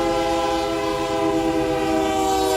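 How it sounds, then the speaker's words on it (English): A CSX freight train led by an AC4400CW diesel locomotive sounds its horn in a loud, sustained, close blast over a steady rumble of the engine. "Leading the train today is the NSF 5673 AC 4400 CW"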